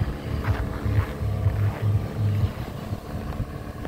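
A Toyota RAV4's 2AR-FE engine runs at a steady idle during a decarbonization treatment, giving off a low, throbbing hum with a faint rhythmic pulse, partly blurred by wind rushing across the microphone.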